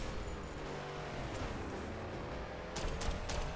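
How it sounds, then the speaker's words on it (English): Gunfire in the PC combat racing game Grip crackles in rapid bursts over a constant roar of speeding vehicles. The shots grow sharper and denser toward the end, with no voices. "I'm hitting somebody with my bullets."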